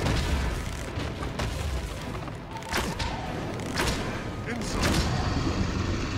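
Several sharp booming gunshots ring out over a dense, noisy Dragon's Dogma final battle soundscape, with loud continuous rumble beneath.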